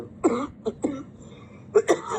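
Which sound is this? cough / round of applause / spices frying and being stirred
cough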